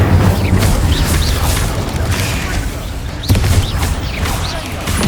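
An Incendio fire spell is cast in the video game Hogwarts Legacy during combat, a loud rushing, booming burst with crackling impacts and a second thump, under busy battle noise.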